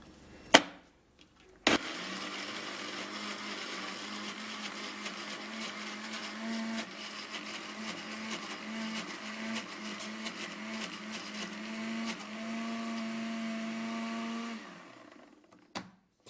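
A countertop blender whirs steadily, blending a cucumber mixture with onion juice; after a couple of sharp clicks the motor runs at a constant loud hum for about thirteen seconds, then winds down and stops.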